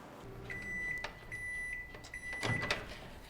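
A microwave oven hums as it cooks a mug cake, a quiet steady drone with a high electronic tone and a few soft clicks and knocks nearby.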